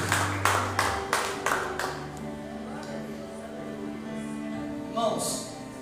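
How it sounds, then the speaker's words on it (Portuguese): A church congregation claps in a run of sharp, rhythmic hand claps, about one per half second, that fades out. A sustained organ or keyboard chord and a voice continue underneath. "Aplauda ao Senhor, glorifique ao Senhor"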